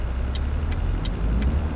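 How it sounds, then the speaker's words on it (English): A truck engine out of gear in Euro Truck Simulator 2 drones steadily at a low pitch, with a few soft evenly spaced beeps ringing above it. "I thought I could hear an engine revving."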